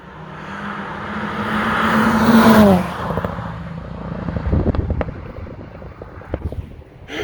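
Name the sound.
Ford Fiesta rally car revving with Remus exhaust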